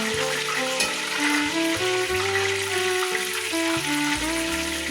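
Oysters frying in hot oil for a po'boy, a steady dense sizzle and bubbling throughout, close and fairly loud, with a faint scrape of a skimmer in the pan.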